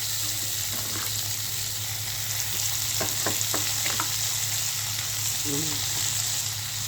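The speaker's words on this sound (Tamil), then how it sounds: "முட்டைக்கோசு இதில் சேர்த்துட்டு நல்லா கிண்டிட்டு" Cabbage stir-fried in a pan with no coconut, a continuous close sizzle with scraping stirs of a spoon, while a voice speaks briefly in the background.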